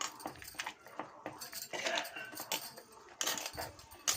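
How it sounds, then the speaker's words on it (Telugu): A masher works boiled tamarinds in a metal pot, giving a string of quick scraping, clinking knocks in an uneven rhythm close by, with no talk over them. "కొంచెం వేడిగా ఉన్నాయని ఈ మ్యాషర్తో నేను ఇలా నలుపుతున్నాను"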